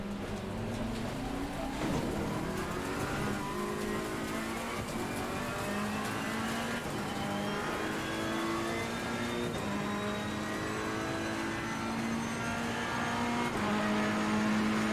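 Ferrari 488 GT3 EVO race car engine in Assetto Corsa Competizione at Imola, a steady high-pitched whine rising and falling through gear changes, loud and continuous with no talk.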